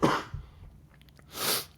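A single sharp cough bursts out close to the microphone, followed by a short breathy pause and a second, softer cough-like expulsion, with a faint rustle in between and no talking.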